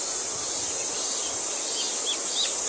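A Japanese bush warbler sings in clear natural surroundings on an island in Nagasaki, its brief whistled notes faint and distant over a steady hiss of insects.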